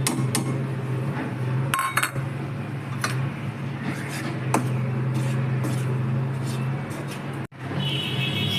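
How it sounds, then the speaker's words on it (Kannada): Fine semolina roasts in ghee in a pan over a low flame, with a spoon repeatedly scraping and clinking against the metal under a low steady hum while someone talks. "ಅದೇ ಬಾಣಲೆಗೆ 2 ಚಮಚ ತುಪ್ಪ ಹಾಕ್ಕೊಂಡ್ಬಿಟ್ಟು ಈ ಪುಟಾಣಿ ಪುಡಿ ರವೆ ಏನಿತ್ತಲ್ಲ ಅದನ್ನು ಸಣ್ಣ ಉರಿಲಿ ಹುರ್ಕೋಬೇಕಾಗತ್ತೆ"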